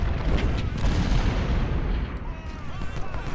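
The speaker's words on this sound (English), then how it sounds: "my artillery's hitting his flank" Artillery fire in the Civil War strategy game Ultimate General: Civil War, dense overlapping cannon booms and distant musketry rumbling together continuously, loud and unbroken for a few seconds.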